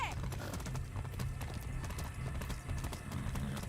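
Horse hooves clip-clop steadily in the video game Far Cry 6, a continuous trotting rhythm under dense game sound and background music.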